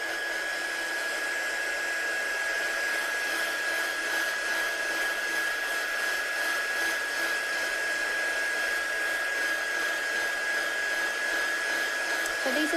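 A hair dryer runs steadily at close range, drying watercolour ink on a handmade card, with a constant whine and no breaks for the whole stretch.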